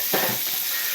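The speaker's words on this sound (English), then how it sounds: "Now we're going to start letting them fry." Spanish-style pork chops frying in oil in a pan, a short burst of loud sizzling and hissing with a faint stir of the meat.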